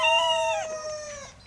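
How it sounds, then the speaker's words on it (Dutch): An Ukkelse Baardkriel rooster crows close by in a single loud, drawn-out call that breaks and tapers off, with another bird faintly audible near its end. "Het is hier concert tussen hanen."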